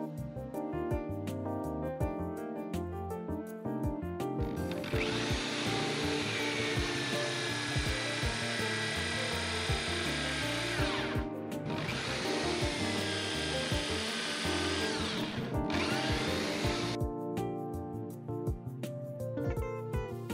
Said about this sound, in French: Vous pouvez régler l'épaisseur du bois à percer.